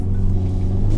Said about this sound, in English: I'm putting as much throttle as I can